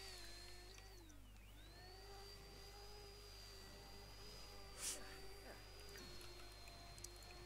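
A vacuum cleaner hums steadily in a Sims video game, its tone rising and falling as it runs, heard faintly behind a constant background drone and light game sounds.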